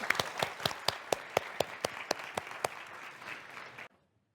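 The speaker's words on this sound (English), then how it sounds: "a big applause." Audience applause closing a panel session at a high-level polar research event in Umeå, Sweden: a steady run of distinct claps, fairly faint and roomy, thinning out before cutting to silence.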